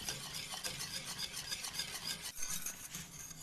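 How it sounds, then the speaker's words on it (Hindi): Custard being stirred in a pan to keep lumps from forming, a continuous close scraping and rubbing of a spoon against the pan with a faint sizzle beneath, steady and unbroken, no talking. "अभी हम इसको थोड़ी देर 1-2 मिनट के लिए और करेंगे स्टर भी, और पकाएंगे भी ताकि थोड़ा गाढ़ा हो जाए"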